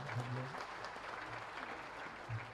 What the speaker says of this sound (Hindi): ताली बजाइए जोर से जरा।